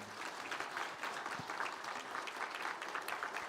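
A church congregation at a Sunday worship service gives a brief round of welcoming applause for a family, an even patter of many hands heard from the middle of the room.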